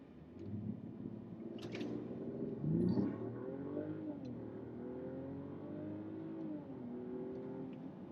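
A 2023 Mercedes-Benz S500 S-Class in Sport Plus mode accelerates hard from a standstill, the engine note climbing through several gear changes with a steady, fairly loud rumble and no one speaking.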